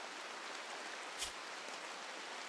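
Rain in the video game RimWorld comes through as a steady, soft hiss of falling water with a single brief louder tap near the middle and no voices.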